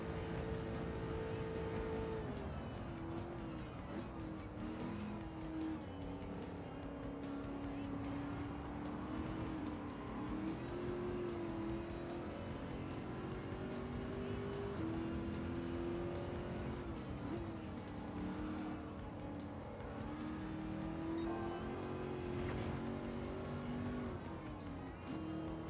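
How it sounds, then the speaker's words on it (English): Racing cars in Gran Turismo 7, a Tesla Model S and a 1971 Mustang among them, with loud continuous engine drone whose pitch rises and falls through gear changes and passes, steady throughout with no talk. "I just passed a Tesla Model S and a 71 Mustang."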